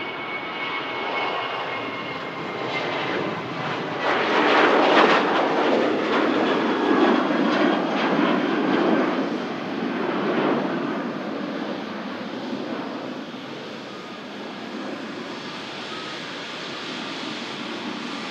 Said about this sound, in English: Touching down now. It's got a visual of the beautiful Qatar 350.